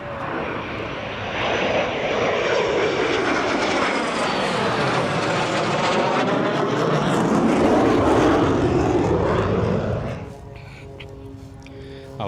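Small propeller planes at an air show roar past overhead, swelling and sweeping in pitch as they pass, then fading away, with people talking in the background.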